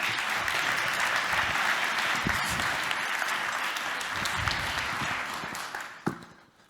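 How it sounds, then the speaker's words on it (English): A conference audience gives a presenter a big round of applause, dense sustained clapping that stays strong for most of the stretch, then a final loud clap stands out before it fades quickly. "Please, big applause for Ondřej."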